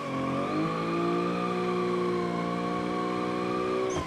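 A simulated car drifting around the Nikko Circuit in BeamNG holds a loud, steady engine drone with layered harmonic tones, rising briefly early on and cutting off at the end.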